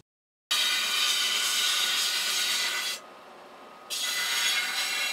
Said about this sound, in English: the fiber paper needs to be scrubbed off. You can use any rough sponge to start